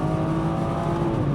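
A tuned Stage 2+ BMW 340i xDrive F31 wagon with 460 hp accelerating hard, a steady loud engine drone heard from inside the car, with no clear gear shift in this short moment.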